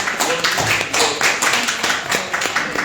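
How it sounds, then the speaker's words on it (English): Brief clapping breaks out at a Canton city council special meeting for the chief of police, a short scattered burst of hand claps in an indoor meeting room, with some voices mixed in. "Can you all give your chief of police a round of applause because he's been working."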